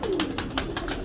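Green-pearl pigeons cooing in a loft, a short low soft coo repeated rhythmically over about a second, close by.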